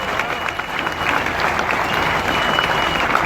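An audience at a network marketing gathering gives a hearty round of applause for a guest leader, with many hands clapping in a continuous, full-room roar over a faint murmur of crowd noise.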